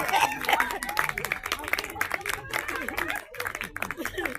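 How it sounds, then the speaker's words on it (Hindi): Thin, scattered applause comes from an audience at a Hindi poetry open mic, uneven clapping mixed with crowd chatter and a speaking voice throughout. "तालियां कमजोर है भाई, देखो।"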